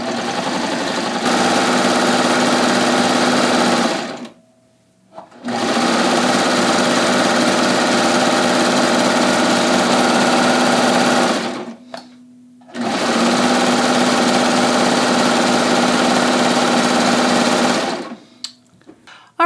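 A serger sewing machine stitching a 3-thread rolled hem on a dress runs in three long, steady, buzzing bursts separated by short pauses, with no talk over the motor.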